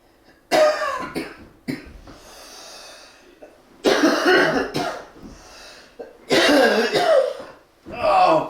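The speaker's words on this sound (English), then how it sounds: "Oh God, this cough is awful." Harsh, heavy coughing fits come in several bursts, close and loud, with raspy breaths and throat sounds between them.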